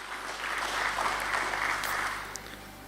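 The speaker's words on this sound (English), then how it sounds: "a big round of applause" An audience at a BSE stock exchange listing ceremony gives a round of applause, a dense, even wash of clapping that holds steady for a few seconds and then begins to fade.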